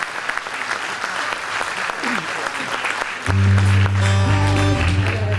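A studio audience breaks into steady applause to welcome the singer, rising under a host's voice before music swells in.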